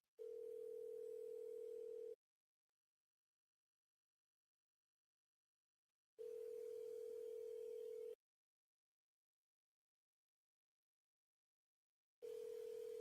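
An outgoing call to a seller rings back with a steady low tone lasting about two seconds, then falls silent for about four seconds, repeating three times in an even cycle.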